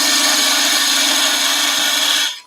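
A wood lathe spins while a turned wooden gonk body is parted off, giving a loud, steady whirring grind with a hum underneath that cuts out abruptly near the end.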